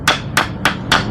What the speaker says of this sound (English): Got a good hammer,